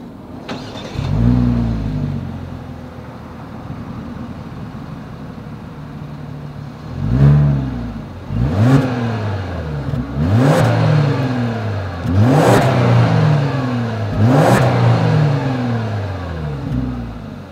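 A 2020 Genesis G90 with dual exhaust outlets and bright tips idles close up, then blips through a series of sharp revs that rise and fall, each rev a distinct surge over the steady idle.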